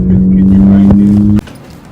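A Nissan D21 truck's engine and exhaust idle with a loud, steady low drone up close, then cut off abruptly near the end, leaving quiet.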